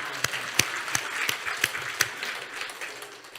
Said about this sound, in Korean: 박수 한번 하고